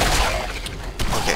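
Shotgun blasts in the video game Fallout 4 come as a couple of loud, sharp booms over a rumbling low backdrop, close and punchy within a brief burst.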